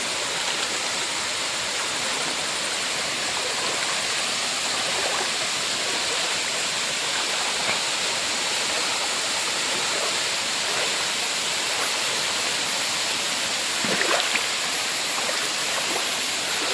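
A monsoon-season waterfall where people come to bathe, its rushing, crashing water a dense, unbroken roar heard close and loud for the whole stretch.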